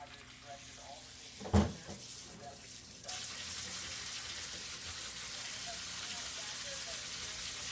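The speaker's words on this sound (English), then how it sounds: "Let's rinse some tomatoes." Tap water running to rinse tomatoes in a kitchen, a steady close gush that opens fully after a brief clunk and continues to the end.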